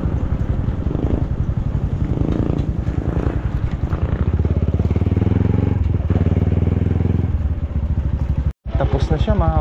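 A large 390 tractor working a farm field, its engine chugging steadily with a pulsing rhythm and clattering, close and loud, with someone talking over it and a brief cut near the end.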